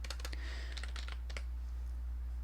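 A quick flurry of computer keyboard keystrokes, a dozen or so light clicks in uneven bursts, sits over a steady low electrical hum while someone types code; no voices.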